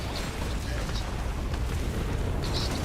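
Missile fire and explosions during a Starfield space battle, a dense rumbling roar of blasts and booms with brief bright pops, loud and continuous over the whole moment.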